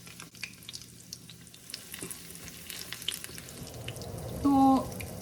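Gram-flour battered eggplant fritters (beguni) fry in hot oil, a steady close sizzle and crackle with a brief louder bubbling burst near the end.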